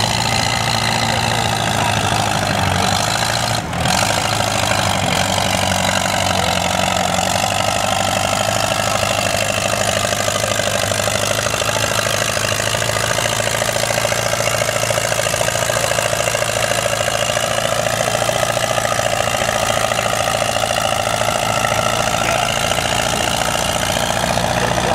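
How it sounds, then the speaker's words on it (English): An Allis Chalmers B tractor engine labours hard during a tractor pull, a loud, continuous, rough drone that stays steady throughout with no break. "a little Allis Chalmers B, trying to run down that cockshot 20"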